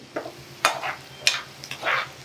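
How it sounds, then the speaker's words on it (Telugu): Onions fry in oil in a pan for gongura pachadi, with a low sizzle under four or five quick, close scraping strokes of a spoon. "ఉల్లిపాయ కొంచెం వేగే వరకు కాస్త ఆగి అది వేస్తే చాలా బాగుంటుంది"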